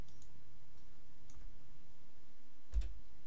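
A single crisp computer mouse click sounds near the end, close and fairly loud against a quiet room background with faint scattered ticks.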